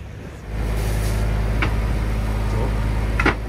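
A sailboat's motor starts up and runs with a steady low drone, loud and close, with a few brief higher clanks over it.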